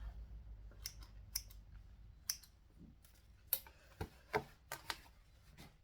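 Quiet, intermittent snips of scissors trimming thread tails, a handful of short crisp cuts spaced irregularly against a faint room hum.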